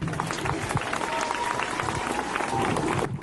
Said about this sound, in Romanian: Vă rog să mai aplaudați încă o dată.